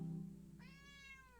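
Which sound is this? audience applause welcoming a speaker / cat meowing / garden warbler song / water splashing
cat meowing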